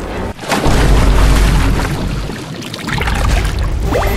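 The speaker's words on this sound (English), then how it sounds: "The pipe is going to explode!" Pipe exploding in the Poppy Playtime Chapter 3 video game, a loud sustained rumbling boom with gushing, watery roar that carries on for several seconds.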